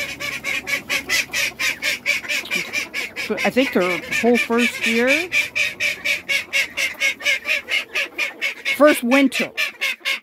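Waterfowl kept in a coop loft with chickens during a cold winter spell honk and call loudly and repeatedly in a steady rhythm throughout, close by, with a person talking briefly over them midway.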